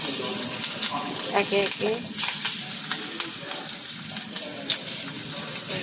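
Egg-coated fish pieces frying in a pan, a steady close sizzle with utensil clinks and a brief spoken word.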